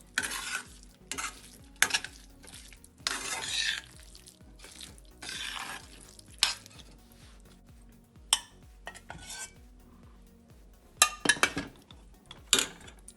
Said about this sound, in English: After adding curd, mix it well.